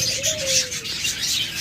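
Caged cockatiels, lovebirds and budgerigars for sale twitter in a busy chorus of close, bright chirps, and a short higher whistle rises briefly near the start.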